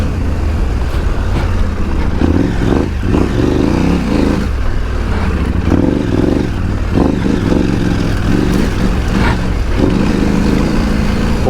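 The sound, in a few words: motorcycle riding on track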